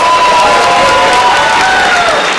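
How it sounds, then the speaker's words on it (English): Parents, family and friends clap and cheer for martial arts students at a black belt graduation, loud, continuous applause with scattered whoops and high-pitched shouts from the crowd. "can we give all of our students a big round of applause, please?"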